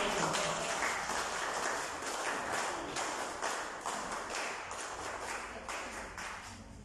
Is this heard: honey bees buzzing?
no